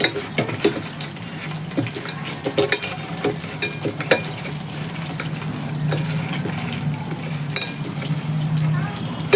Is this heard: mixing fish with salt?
yes